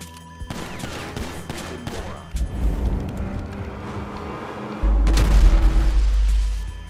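Gunfire in the video game GTA 5, a dense mix of rapid shots, booms and engine rumble that swells into a loud sustained roar in the second half, with no speech.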